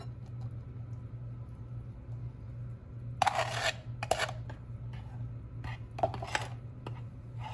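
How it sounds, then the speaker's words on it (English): Flour is stirred into melted butter in a baking dish for peach cobbler, giving a few close scraping and rasping strokes over a low, steady hum. "The butter has melted, so I'm going to stir in 2 cups of flour"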